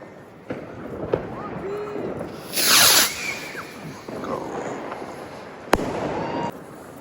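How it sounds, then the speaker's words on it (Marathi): Firecrackers bursting at 11:30 pm on New Year's Eve in Berlin, scattered sharp pops and a whistling rocket rush over a noisy outdoor crowd, with one loud crack near the end and people talking. "तर तुम्ही बघू शकता रात्री 11:30 वाजले आणि लोक फटाके फोडत आहे बघा"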